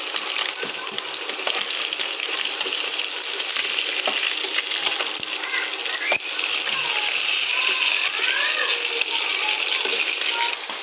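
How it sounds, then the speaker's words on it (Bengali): Rohu fish pieces frying in oil make a loud, continuous crackling sizzle with small pops and spatter, close up and unbroken for the whole stretch, with no talk over it. "এটা কিন্তু খুব সুন্দরভাবে ভেজে নিচ্ছি, খুব সুন্দরভাবে কিন্তু মাছগুলো ভাজা হয়ে গিয়েছে।"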